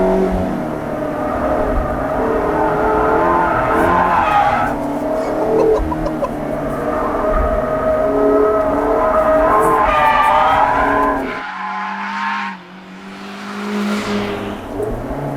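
A 2022 Mazda MX-5 RS Roadster slides on track with loud, sustained tyre squeal over steady engine drone, the squeal easing briefly near the end before the engine returns.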